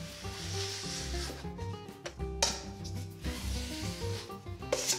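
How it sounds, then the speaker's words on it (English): A 4-inch drywall knife scrapes along wet paper tape in an inside corner. Close, soft rubbing strokes come in short repeated passes with small taps in between. "Just run your knife, 4 inches knife."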